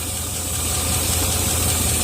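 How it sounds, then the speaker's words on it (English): A warm Land Rover 4.0 V8 idles after a vacuum leak repair, giving a steady, smooth hum with a faint hiss, close and fairly loud. "look how nice it's idling now"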